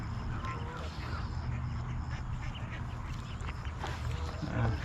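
Geese call from across a pond, a scattered chorus of honks heard at a distance over steady outdoor wind and water noise.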